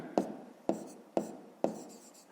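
A pen writes numbers by hand on paper in a fifth-grade maths exercise, four short scratchy strokes spaced evenly, close and quiet, with no talk.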